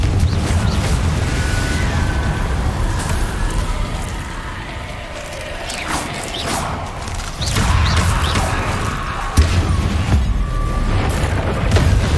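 Explosive Confringo spell blasts boom in the Hogwarts Legacy video game amid a busy combat mix of thuds, crashes and whooshing effects. Loud impacts come in bursts, with a sharp hit near the end.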